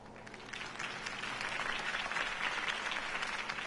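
A video game crowd applauds steadily, a dense wash of many hands clapping at an even, fairly loud level throughout.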